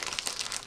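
Brief close crinkling and tearing of a plastic mailer package being opened, a dense rustle of crackles lasting under a second.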